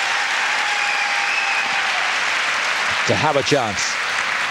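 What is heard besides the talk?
audience applauding figure skaters at World Championships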